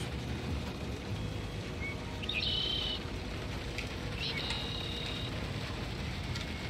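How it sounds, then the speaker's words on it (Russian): Birds chirping in the video game Construction Simulator 2022, two short high twittering bursts over a steady ambient noise bed, faint and distant-sounding. "Птички верещат."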